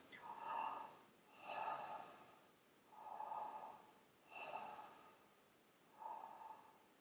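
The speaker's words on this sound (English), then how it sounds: "Take 3 breaths," Three slow, ordinary breaths taken during a beginner yoga session, each inhale and exhale audible as a soft, close airy rush in a steady rhythm with short quiet gaps, no talking.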